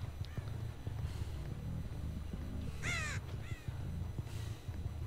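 Ravens in the Dead by Daylight video game give a couple of rasping caws, one loud and one fainter just after, over a murky low ambient rumble.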